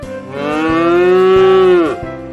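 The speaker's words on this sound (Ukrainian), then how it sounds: "Бицьо каже му-му-му." A bull gives one long, loud moo that rises and holds steady before trailing off, heard close and alone.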